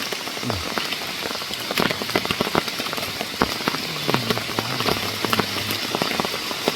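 Heavy rain pours down on a mountain forest campsite, a dense steady hiss with sharp drops pattering on nearby surfaces, loud and close throughout.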